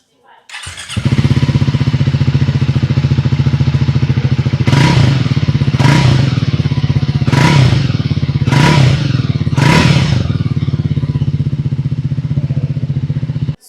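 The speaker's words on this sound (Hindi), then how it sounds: "अब सुनते हैं थ्रस्टन 400 का एग्जॉस्ट।" A Triumph Thruxton 400 motorcycle engine starts and settles into a loud, steady idle, then revs five times in a row, each burst climbing and dropping back to idle.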